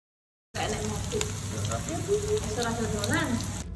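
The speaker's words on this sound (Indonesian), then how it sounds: "Pertama kita goreng terlebih dahulu untuk tempenya." Tempeh frying in hot oil, a dense steady sizzle with popping bubbles close up, starting abruptly and continuing with faint talk underneath.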